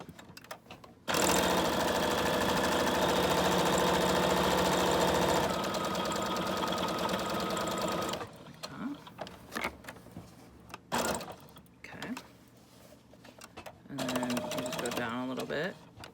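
A sewing machine stitches fabric for a junk journal cover, running in a loud, steady whir for several seconds before stopping, followed by someone talking.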